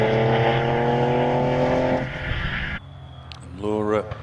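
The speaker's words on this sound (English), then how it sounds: "Laura Wardle on the hill at the moment in the Porsche 911 Carrera into Farmhouse Bend." Porsche 911 Carrera engine on a hillclimb course at Harewood heading into Farmhouse Bend, a loud sustained tone over a commentator's voice, then cutting off abruptly to quieter crowd and distant motor sounds.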